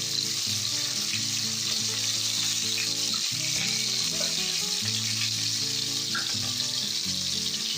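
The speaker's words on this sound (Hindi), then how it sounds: "इसको मैं थोड़ा सा फ्राई करूँगी। मशरूम और मटर एक साथ में डालूंगी।" Mushrooms and peas fry in a kadhai with a close, loud, continuous sizzle, while a steady tonal hum runs underneath the frying.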